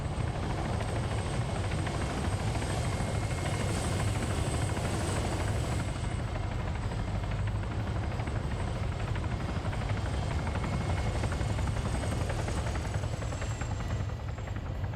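A helicopter flies in a military shooter video game, a steady loud rotor drone with a dense low-end throb that holds constant throughout, with no talk.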